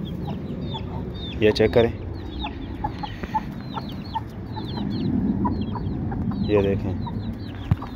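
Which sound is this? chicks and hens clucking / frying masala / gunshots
chicks and hens clucking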